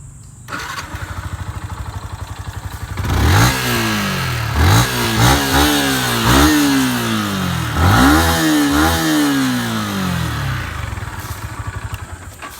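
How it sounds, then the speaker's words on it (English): A 2017 Yamaha R15 v2.0 motorcycle with stock exhaust cranks and fires up, then idles while the throttle is blipped in several sharp revving bursts, close and loud. "That was nice revving from the Yamaha."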